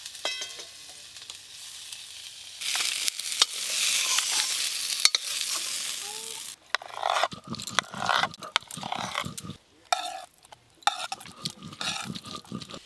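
Whole spices sizzle and fry in a pan over a clay stove while cooking Kashmiri pulao, with a steady hiss first, then sharper crackling and clattering bursts as they are poured.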